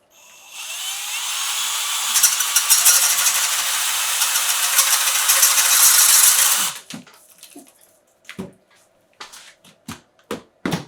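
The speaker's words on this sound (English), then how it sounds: "So I'm just going to drill a 3/4 inch hole." A high-pitched electric drill whines loudly and steadily for several seconds boring a 3/4 inch hole in a fishing kayak, then stops, followed by a few scattered knocks and clicks.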